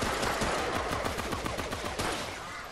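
Rapid sidearm gunshots from the video game Remnant: From the Ashes, a fast, steady string of sharp cracks fired in quick succession, loud and continuous over dense in-game background noise.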